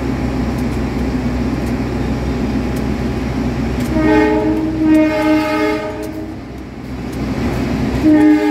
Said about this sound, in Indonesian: Ada kereta api penataran.